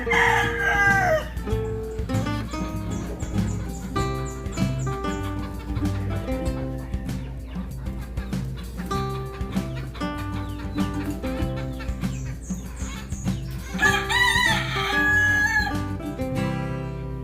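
Chickens cluck in a steady, busy chorus with a rooster crowing near the start and again later, loud and close, without talk.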